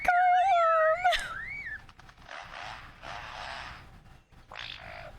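A bird sings warbling, rising and falling electronic-sounding tones like a car alarm, loud at first, then scratchy chatter and a final burst of tones.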